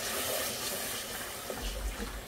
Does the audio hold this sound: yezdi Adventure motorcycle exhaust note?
no